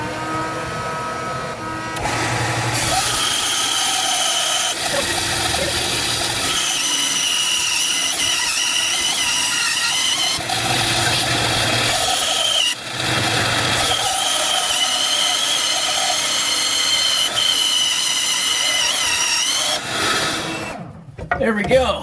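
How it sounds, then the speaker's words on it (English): A woodworking bandsaw cuts the rough shape of an axe handle while a dust collector runs, a loud steady machine roar with the blade's cutting noise swelling and dipping throughout, alone with no talk. "I'm gonna try and cut that shape out now on the bandsaw. And it's gonna be loud because I'm gonna turn on the dust collection."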